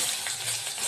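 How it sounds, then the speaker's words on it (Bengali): Onions tipped into hot oil with cumin seeds for a kadai paneer, giving a steady broadband hiss of sizzling frying that holds for a moment with no voices. "এবার আমি এখানে দিয়ে দেবো পেঁয়াজ,"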